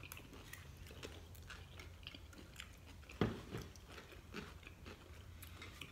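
Crunchy bites and chewing on sweet gold pickled radish at a Korean jjajangmyeon meal, close and quiet, with one sharper crunch about midway and soft mouth sounds throughout.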